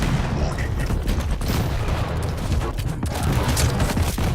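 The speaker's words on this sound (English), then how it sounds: "I want to blow you up with my rocket launcher." Rapid rocket launcher fire and repeated explosions in the video game Quake Champions form a dense, continuous barrage of loud booms and bursts with no clear pauses.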